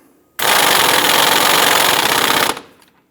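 An impact or air tool drives a 21mm socket to snug a tie rod nut on a 2011-2021 Jeep Grand Cherokee. It runs as one loud, continuous two-second buzzing burst, then cuts off abruptly.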